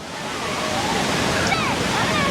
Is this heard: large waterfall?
yes